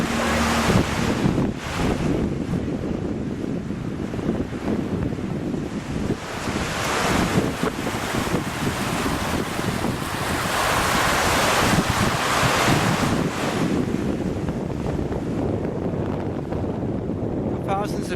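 Ocean surf on the rocky coast near Miletus, Turkey, with continuous rolling waves and heavy wind buffeting the microphone, a dense roar that swells and eases across the whole stretch.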